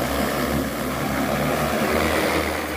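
A DJI T30 agricultural drone spreading fertilizer over a field lifts off with a loud, steady roar of its propellers, a continuous close whirring drone with wind noise.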